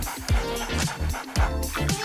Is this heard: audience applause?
no